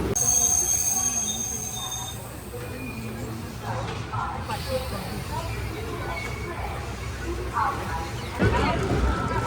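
Wheels of the Gujarat Superfast Express passenger train screech against the rails near Anand, a thin metallic squeal over a low rolling rumble, with voices murmuring faintly in the coach.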